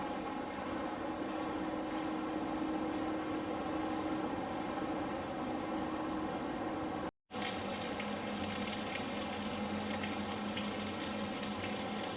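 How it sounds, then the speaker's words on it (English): Steady rushing, bubbling water from a hot tub jacuzzi aboard the cruise ship Viking Sky fills the space continuously, with a brief dropout partway through before the churning resumes. "And a standard hot jacuzzi here."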